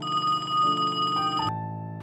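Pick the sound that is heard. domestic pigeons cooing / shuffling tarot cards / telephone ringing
telephone ringing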